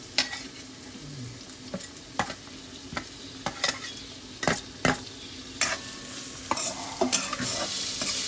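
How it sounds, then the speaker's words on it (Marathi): Onion and green chili frying in hot oil for a wild-greens dish, a steady close sizzle broken by repeated sharp scrapes and clacks of a spoon stirring the pan, growing busier toward the end. "तेल तापलंय आणि आता त्याच्यात कांदा टाकते. मिरची कांदा आणि मिरची."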